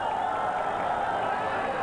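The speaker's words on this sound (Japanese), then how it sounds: "すでにスタート前からスタンド前では大歓声が上がっております。" A dense grandstand crowd roars at a racecourse before the start of the 1990 Satsuki Sho (G1) horse race. The roar is loud, steady and continuous, with no breaks and no distinct voices.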